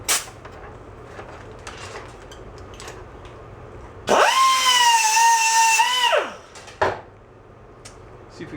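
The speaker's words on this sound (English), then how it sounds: "We can stick it in a drill," A power drill spins up on a Puch moped repair job, a loud whine that holds steady for about two seconds and then winds down, set between quieter handling clatter.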